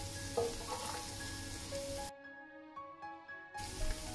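Fried onions and curry leaves for a Jaffna-style mutton curry sizzle as they are stirred in a pan. The sizzle drops out into a quiet stretch midway, then returns, with faint steady tones running underneath.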